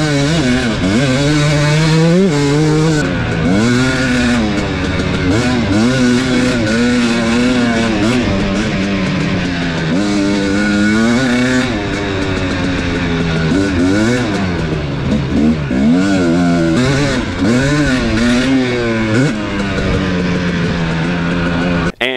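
Two-stroke dirt bike engine under way, loud and continuous with constant revving rises and falls and a fluttering, buzzing tone throughout, the engine suffering a persistent noise problem.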